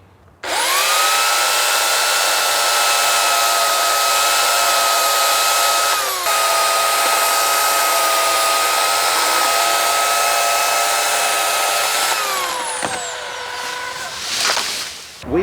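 An Oregon CS1500 electric chainsaw cutting a tree: a loud, steady high-pitched motor whine held for about twelve seconds, a brief dip midway, then spinning down with a falling pitch and a short rev near the end.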